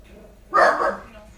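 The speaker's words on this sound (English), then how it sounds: "That's my dog barking in the background." A household dog barks in a brief loud burst in the background of a home makeup session, with faint room noise before and after.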